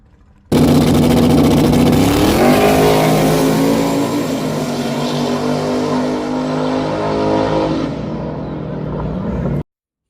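A Ford Mustang drag car launches hard and accelerates down the strip at Windy Hollow, a loud, close engine roar climbing through the run before cutting off abruptly, with no talking.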